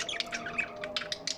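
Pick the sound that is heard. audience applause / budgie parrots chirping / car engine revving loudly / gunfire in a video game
budgie parrots chirping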